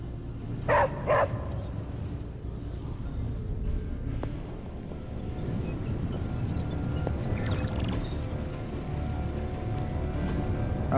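A dog barks twice in quick succession early on in the Marvel Midnight Suns video game, followed by a few faint whimpers and yips over steady ambient game background.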